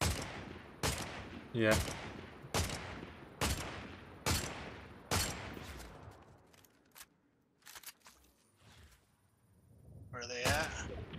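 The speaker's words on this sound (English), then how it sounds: "Are you shooting at them, Joe?" Fortnite gunfire: a steady series of evenly spaced single shots, about one per second, fading into scattered sparser shots and a final burst, with a voice talking briefly in between.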